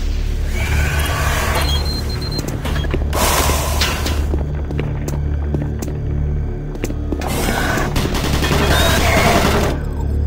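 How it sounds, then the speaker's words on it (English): Automated turret guns in the video game Doom 3 fire in sustained, loud volleys of booming shots that run through the whole stretch, alongside clanking mechanical noise and no talking. "Warning, automated turret guns online."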